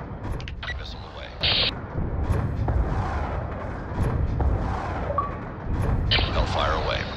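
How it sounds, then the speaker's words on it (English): A Reaper drone's missile launch and the blasts that follow in a military shooter game, heavy booming impacts and rumbling explosions over ongoing battle noise, with radio-style voices talking over the action. "Missile away."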